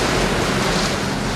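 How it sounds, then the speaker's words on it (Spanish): Floodwater roars through a city after the levees broke, a dense, loud, unbroken rushing roar with no pauses. "El agua estalla, traspasando los muros de los diques y ruge a través de la ciudad"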